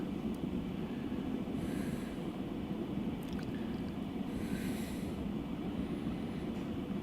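Diesel railcar slowing in a train simulator game, a steady low rumbling drone of engine and rolling wheels that stays even throughout, with faint high squeals drifting in twice.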